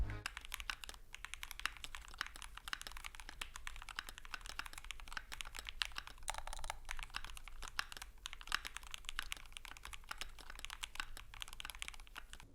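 Steady, fast typing on a custom mechanical keyboard with pre-lubed switches, a dense run of close clicky-thocky keystrokes that carries on with no talking.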